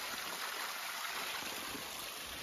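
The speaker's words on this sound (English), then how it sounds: "Just put your water bottle right under there, fill her up." Mountain stream water in Banff National Park runs steadily into a water bottle, a continuous close trickling wash with no voices.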